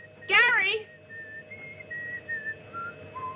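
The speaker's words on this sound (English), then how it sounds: "Would you quit that whistling?" Someone whistles a short, slow tune of separate held notes, preceded by a brief vocal exclamation, in an otherwise quiet setting.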